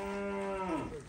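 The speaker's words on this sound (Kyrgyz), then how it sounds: "Уйлар." A single pregnant cow gives a long, close, loud moo, steady at first and then falling and breaking up at the end, with no talking over it.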